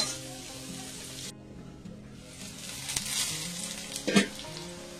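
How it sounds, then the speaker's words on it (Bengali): Potatoes seasoned with salt and turmeric fry in a pan, a soft, steady sizzle that briefly cuts out, then returns with a few louder crackles and stirring scrapes. "আলুটা ভাজা হয়ে গেছে, আরো একটু আমি ভাজবো"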